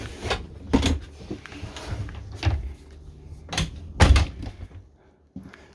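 A Rapido 866F motorhome door is opened from inside, with several close thumps, clunks and latch rattles, irregular and fairly loud, without talk.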